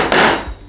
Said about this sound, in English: again hammer it.